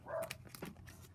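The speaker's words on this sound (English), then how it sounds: "Excuse the dogs." Dogs barking indoors during a home card-making session, a couple of short muffled barks at moderate distance over faint room noise.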